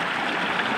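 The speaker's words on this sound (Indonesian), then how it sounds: "ini adalah sungai, di mana sungai itu merupakan titik temunya beberapa anak sungai dari tiap-tiap desa" Steady broadband rush of a river flowing where several tributary streams meet at a village boundary, continuous and fairly loud with no voices.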